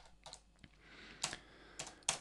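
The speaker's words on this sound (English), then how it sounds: "all you need to do is either press delete on the keyboard or press backspace" Keys tapped on a computer keyboard, a few sparse, quiet clicks spaced irregularly, heard alone without talk.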